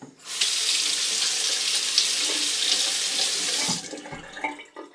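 Tap water runs steadily from a faucet into a sink to rinse a Parker SoloEdge razor, a loud continuous splashing hiss that stops abruptly near the end, followed by a few light clinks and drips.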